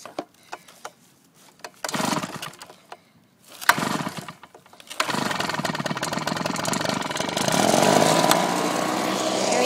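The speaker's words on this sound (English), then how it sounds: "now I guess I'll start with this Husqvarna. Okay, gonna flip it up for choke." A Husqvarna lawn mower is cold-started on choke: a few short pull-cord rasps, then a sputtering catch, and the small engine settles into a loud, steady running drone close by.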